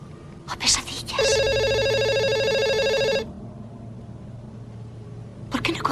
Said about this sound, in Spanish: ¿Por qué no coges el teléfono?